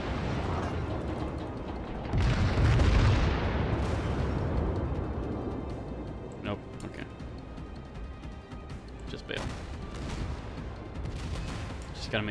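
A Nagato battleship's heavy guns in World of Warships, with a loud booming salvo roll followed by rumbling and scattered sharp impacts and clanks as the sound gradually fades.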